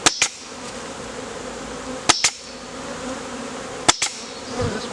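Bees from a rescued swarm drone in a close, continuous buzz while a frame is worked, punctuated by three pairs of sharp wooden knocks spaced about two seconds apart.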